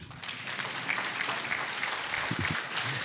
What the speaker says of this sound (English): Can we clap for God?